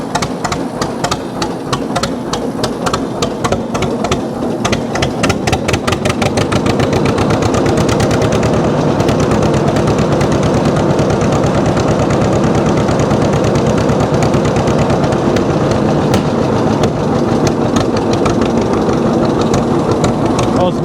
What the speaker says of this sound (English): when you idle it down, it'll create a little bit of a backfire, plus you got the straight pipe on